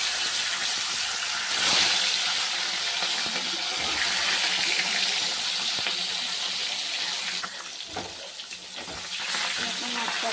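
Fish rubbed with salt and turmeric frying in hot oil, a loud, steady broadband sizzle running throughout with brief surges near the start and toward the end, no voices.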